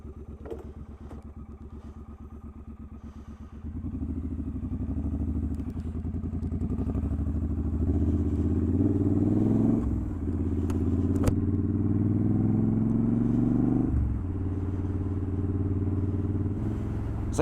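A Triumph Scrambler 900 motorcycle rides along with a steady, loud engine drone, stepping up in pitch around four seconds in as it accelerates, a brief dip near ten seconds and again near fourteen, with some wind buffeting on a cold day.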